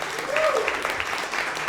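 Audience applause for a band at the Historic Cadillac Hotel, a brief steady wash of clapping with a voice briefly audible over it.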